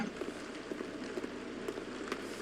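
Steady rain falls throughout a polar area in a video game, a dense even hiss with faint drop ticks, moderately loud and continuous with no talking.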